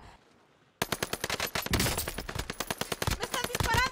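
Rapid bursts of automatic gunfire from the shooter Call of Duty: Vanguard break out after a quiet start, loud and close, with dense rattling volleys continuing to the end.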